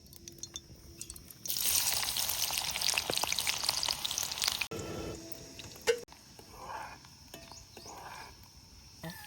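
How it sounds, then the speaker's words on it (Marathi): Chopped onion tossed into hot oil in a wok for a village-style Vidarbha vamb fish curry, bursting into a loud steady sizzle that crackles on, with brief clinks and a short break partway through. "तेल गरम झालं कांदा टाकतो"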